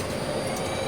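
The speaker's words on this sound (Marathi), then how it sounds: "आता ट्रेनचा प्रवास बघू शकता." A train travelling at night gives a steady, close rumbling roar with a faint whining tone, continuous and unbroken for under a second, with no voices.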